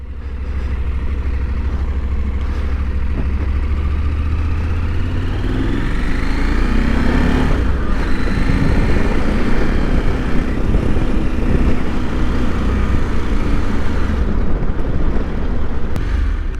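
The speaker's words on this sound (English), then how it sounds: "this engine doesn't sound rough" A Husqvarna Norden 901 motorcycle engine runs steadily and smoothly at close range, a continuous low rumble that shifts in pitch around the middle as revs change, with no talking.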